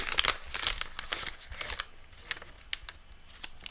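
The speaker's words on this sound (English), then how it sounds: "And I'm just folding them in half." A5 paper sheets folded in half one after another for junk journal signatures, giving close, crisp crinkling and rustling in quick bursts, busier at the start and thinning to scattered crackles.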